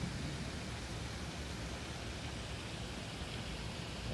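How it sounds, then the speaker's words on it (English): Light rain falls on a humid day at Port Orleans French Quarter, a faint, even hiss, soft and continuous, with no other sounds standing out. "the humidity is getting high as the little light rain's happening"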